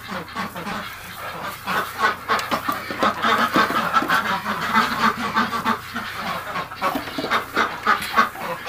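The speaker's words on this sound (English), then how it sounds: "look at the ducks in here, folks" A crowd of ducks and chickens packed inside a barn, kept in from the cold, quacking and clucking continuously at close range with overlapping calls and no pauses.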